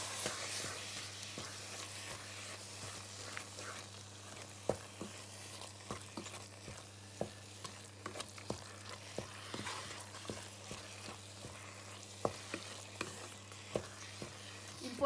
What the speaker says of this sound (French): Mélangez le tout.